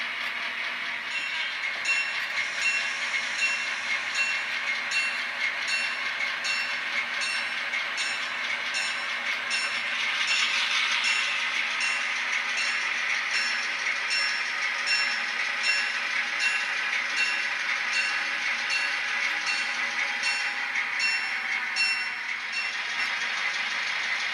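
A WJSA freight train rolls steadily past, with rhythmic clickety-clack of wheels on rail joints and a continuous metallic rumble, no voices.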